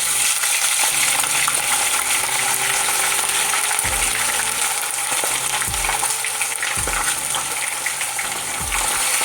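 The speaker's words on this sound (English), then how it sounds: "you don't want to over fry this. We're not looking to over fry this." Pork griot, Haitian seasoned pork chunks, frying in a pan with a steady loud broadband sizzle throughout, punctuated by several low clunks and knocks as pieces are moved or turned.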